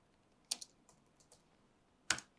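Quiet, sparse keystrokes on a computer keyboard while code is written, a few soft clicks between two sharper key presses in a hushed room.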